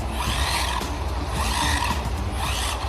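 A WLtoys 104072 RC car drifts, its tires squealing and skidding over a steady, high-pitched motor whine that stays loud and close throughout.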